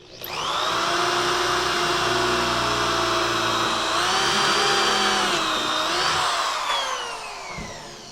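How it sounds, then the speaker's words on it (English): A new power drill bores holes in wood for a teardrop trailer's upper kitchen cabinet, whining loud and continuous at close range, its pitch dipping under load before spinning down to stop. "and drill our other 2 holes."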